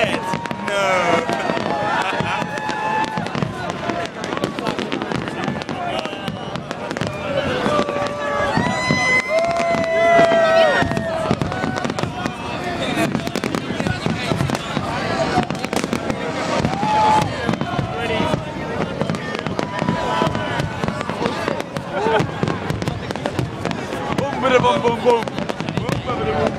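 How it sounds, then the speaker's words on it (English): Fireworks over Prague pop and crackle in a steady, dense stream of sharp bangs and whistles, loud and nearby, with people talking throughout. "those are fireworks"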